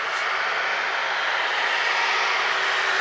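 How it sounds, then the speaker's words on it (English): A farm tractor approaches on a rural property near a garden and greenhouse, its engine giving a steady, loud drone that swells slightly as it draws closer, with no talking. "here comes Kurt in his tractor"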